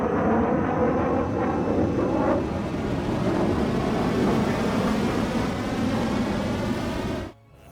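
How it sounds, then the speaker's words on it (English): A railgun projectile launched from an enemy aircraft in the video game Ace Combat 7, heard as a loud, sustained roaring rush of noise that holds steady for several seconds before cutting off abruptly. "High-speed projectile launch from enemy aircraft."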